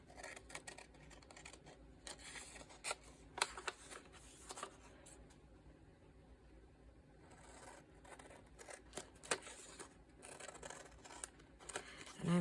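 Scissors cut through material for a sewing craft project, a faint, close series of irregular snips and crisp scraping sounds spread over several seconds, with little other sound.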